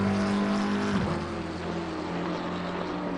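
A McLaren GT race car's engine in Assetto Corsa Competizione at Monza, a steady high drone with a drop in pitch as it shifts, then holding a constant tone.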